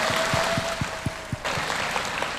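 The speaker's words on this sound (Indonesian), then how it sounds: "Berikan tepuk tangan." Applause from a Muslim congregation at a large religious gathering abroad, a steady broadband patter of many hands with a faint tone running beneath it, moderately loud and without speech.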